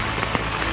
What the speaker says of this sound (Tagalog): So umuulan ngayon